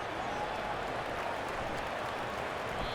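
A football stadium crowd cheers a punt return at an Iowa Hawkeyes versus Ohio State Buckeyes college game: a dense, continuous roar of thousands of voices and applause, loud and sustained without a break.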